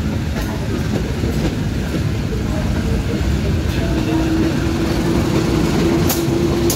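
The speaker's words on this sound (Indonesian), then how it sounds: "ini langsiran kereta bagasi, satu kereta eksekutif Taksaka sama satu kereta ekonomi teman-teman" A train rumbles steadily nearby with low mechanical noise and faint clanks as a locomotive shunts a baggage car and passenger carriages, a droning diesel engine tone joining in partway through.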